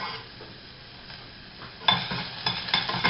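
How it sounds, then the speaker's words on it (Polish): Diced onion drops into about a spoonful of hot oil in a saucepan, starting a soft crackle that grows louder and sharper partway through, with stirring scrapes and no talking. "Wlewam odrobinkę oleju. Wystarczy około jednej łyżki. I wrzucam jedną niedużą cebulkę pokrojoną w kostkę."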